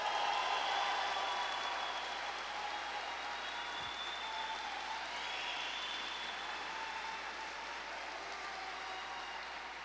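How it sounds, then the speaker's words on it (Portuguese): A church congregation applauds in a steady wash of clapping from a sizable crowd, filling the whole stretch and fading slightly toward the end. "Pode aplaudir, pode aplaudir."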